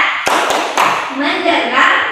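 Children and a teacher in an Indonesian classroom doing a clap game, a few sharp close hand claps in quick succession, followed by a voice calling out.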